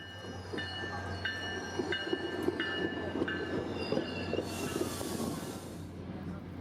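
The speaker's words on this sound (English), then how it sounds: "we'd wait for a couple minutes for SunRail train P321" A SunRail commuter train arrives in Orlando, rumbling steadily nearby, with a rhythmic run of clicking rail joints and a rising hiss of air or brakes near the end.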